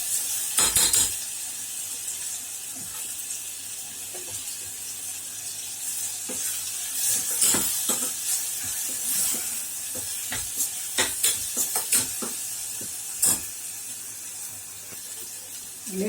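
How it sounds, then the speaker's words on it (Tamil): Spiced masala with chili powder, coriander powder and turmeric sautéed in a pan for mutton curry: a steady close sizzle broken by scraping stirs and occasional sharp spoon clinks against the pan, with no talk. "நல்லா வதக்கி வச்சுக்கலாம்."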